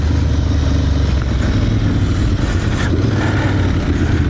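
An Aprilia Tuareg motorcycle ridden off-road, its engine running loud and close with a steady droning rumble and road noise throughout; no talking.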